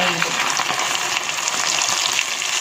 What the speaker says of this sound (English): I've heated here around 2 big tablespoons of oil, and now let's start frying them.